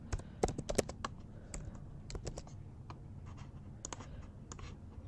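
Typing on a computer keyboard: a run of quiet, close-up clicks and taps, some bunched in quick bursts and others spaced out, over a soft background hum, with no talk.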